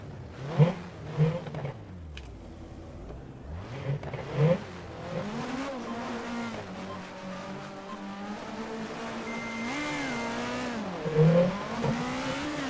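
Simca 120 race car engine in a 1960s-style racing game at Barbagallo, revving and rising in pitch at the race start, with a steady drone and brief tire squeal, no talk.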